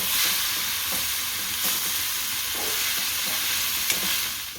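Veg hakka noodles mixed with sev are stirred in a hot pan, giving a steady close sizzle with soft scraping strokes recurring every second or so, no voices.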